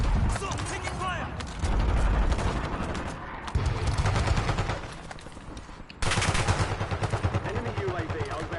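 Rapid bursts of automatic gunfire and shots in a Warzone battle royale match, loud and near, with sustained volleys and brief pauses, layered over game noise and occasional voice.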